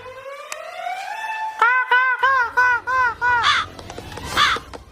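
Crow caws ring out during a Free Fire video game match, a rising call followed by a rapid series of about six loud, harsh caws, close and clear with no talking over them.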